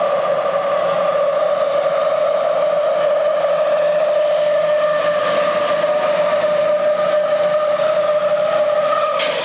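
A 1986 super stock pulling tractor engine building close to 200 pounds of boost at an indoor pull, giving a loud, steady high-pitched whine and roar that holds unbroken throughout.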